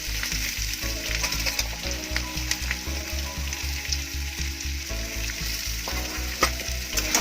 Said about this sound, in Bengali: আবার একটু নাড়াচাড়া করবো এগুলো খুব একটা বেশি ভাজবো না এবারে দিয়ে দেবো বিনস